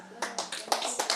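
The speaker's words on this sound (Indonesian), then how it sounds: "Tepuk tangan dong buat Tuhan Yesus." Church congregation clapping during a sermon, a handful of distinct claps in a loose rhythm, close and fairly loud, with a faint voice underneath.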